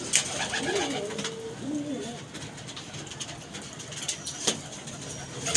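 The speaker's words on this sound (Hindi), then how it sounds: "ये देखिए नीले कबूतर का ये टैडी दिखाया" Teddy pigeons, including a blue one, coo in soft repeated bursts close by, with faint engine noise in the background.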